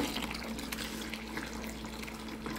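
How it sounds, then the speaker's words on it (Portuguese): Room-temperature water is poured into a homemade soap and detergent mixture, a steady near trickle and splash with a faint hum underneath and no voices. "E aqui eu vou pôr 3 litros de água em temperatura ambiente."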